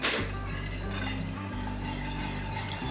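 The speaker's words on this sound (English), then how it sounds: "And then we're just going to whisk that until it's smooth." A whisk scrapes and clinks against a pan while a side dish mixture is beaten smooth, a continuous rhythmic metallic stirring close by with no talking.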